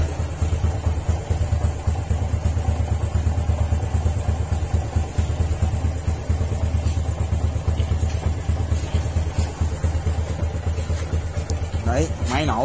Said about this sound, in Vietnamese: Đấy, máy nổ đó anh em